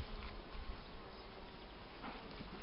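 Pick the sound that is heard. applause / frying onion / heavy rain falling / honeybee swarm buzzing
honeybee swarm buzzing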